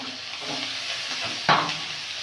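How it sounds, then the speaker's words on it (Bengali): Onion paste sizzles steadily in a hot pan as chopped tomato goes in with onion, with one sharp, louder crackling burst midway before the even frying hiss resumes. "পেঁয়াজটা ভাজা ভাজা হয়ে গেছে, এবারে দিয়ে দেবো টমেটো,"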